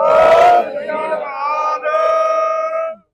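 A crowd at a gurdwara gathering of young volunteers with tractor-trolleys answers the Sikh war cry Bole So Nihal with one loud, sustained shouted chant lasting about three seconds before cutting off.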